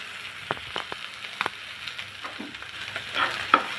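Pumpkin flowers fried with egg and chopped coriander leaves are stirred in a pan: a soft sizzle under several sharp scraping and tapping strokes of a spatula, close by.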